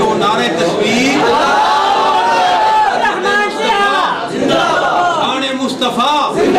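A crowd at a religious gathering roars back in response to a Nara-e-Takbir slogan, many voices chanting together in loud, sustained bursts with echoing overlapping calls.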